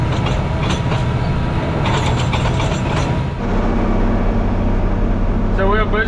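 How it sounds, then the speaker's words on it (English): A tractor pulls a water furrow plow across a field at its slowest speed, giving a steady, close, low engine drone with a rough mechanical rattle that shifts to a smoother hum partway through. "we're going as slow as the tractor would go"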